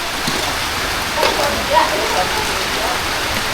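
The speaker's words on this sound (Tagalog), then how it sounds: "Yung guys, umuulan na naman." Steady rain falls outdoors in a broad, even hiss that holds through the whole stretch, with a few faint scattered sounds on top and no one talking.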